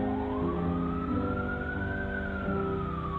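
A distant emergency siren rises and falls slowly in a long wail over the steady low rumble of traffic.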